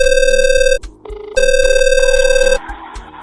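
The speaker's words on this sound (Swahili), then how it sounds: "inaita simu inaita" An outgoing phone call rings on the line, loud steady ringback tones in long repeating bursts separated by short pauses, with faint background noise between them.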